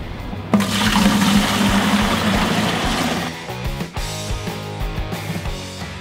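Water pours into a bucket before thinset is mixed for a tile shower membrane: a loud, close gushing fill that starts abruptly, runs for a few seconds, then tapers into sloshing and trickles, with no talk.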